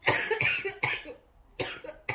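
A quick run of harsh coughs close by, four or five bursts in two short clusters separated by a brief quiet pause.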